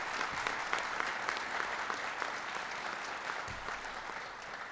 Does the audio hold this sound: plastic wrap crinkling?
no